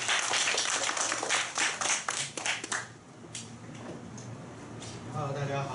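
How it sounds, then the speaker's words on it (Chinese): A small audience at a self-introduction meetup claps for about three seconds, quick uneven hand claps up close that thin out and give way to someone starting to talk. "来掌声欢迎。"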